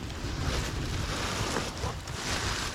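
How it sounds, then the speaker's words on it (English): Steady, dense rush of heavy rain in a thunderstorm with gusty wind noise buffeting the microphone, continuous and loud throughout. "It's really raining now. We got a thunderstorm."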